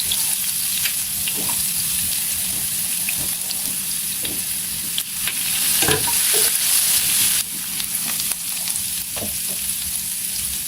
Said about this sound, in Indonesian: Tumiskan bawang putih cincangnya sampai tercium bau harum bawang goreng.